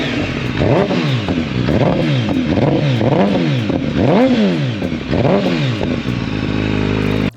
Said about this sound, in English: we did previously warm up all the bikes so that we could rev them for you